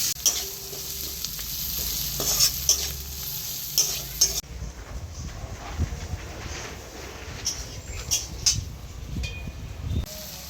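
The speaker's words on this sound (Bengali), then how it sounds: "এবার দিয়ে দিচ্ছি এতে কাঁচা পেঁয়াজ আর কাঁচা লঙ্কা কুচি। হালকা বাদামি হওয়া পর্যন্ত ভেজে নেব" Chopped onion and green chili fry in a pan of oil seasoned with cumin and dried red chili for a Bengali katla fish curry, a steady close sizzle with stirring scrapes and clinks throughout, no voices.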